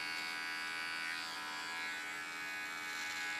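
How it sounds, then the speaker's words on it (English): A small electric hair clipper buzzes steadily and close up while trimming contour lines during a haircut, a continuous bright hum with no talking over it. "Now first clean this up with a clipper, small clipper, the contour lines"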